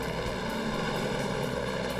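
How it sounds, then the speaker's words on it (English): A Customs Service helicopter flying over the Texas backcountry during a search, a steady loud rotor and engine drone with a faint rhythmic beat throughout. "Customs Service helicopters supported the ground units in the search."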